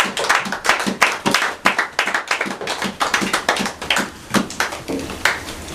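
A church congregation claps in rhythm, steady loud beats repeating throughout, like sustained rhythmic applause in worship with no speech over it.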